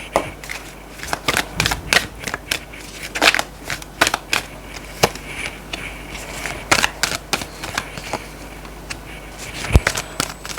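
Tarot cards are shuffled by hand in a series of crisp, irregular riffling clicks and snaps at close range, with brief pauses between bursts over about ten seconds.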